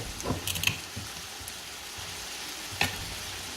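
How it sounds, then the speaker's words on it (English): Marsala cooking wine hits a hot pan with cooked chicken, giving a steady close sizzle and bubbling hiss, with a few brief clinks and stirring taps on top. "I'm going to go ahead and add my Marsala cooking wine"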